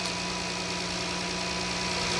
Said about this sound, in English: Engine running a little funny.